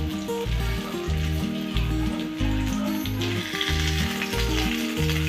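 Fish pieces sizzle steadily in hot oil in a pan as they are turned over, with loud tonal music playing over the frying throughout.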